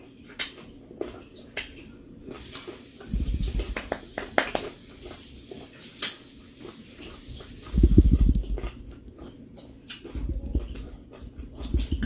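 Crunchy, spicy food being chewed up close, with bursts of low crunching and short clicks and snaps repeating irregularly, loudest near the middle and the end.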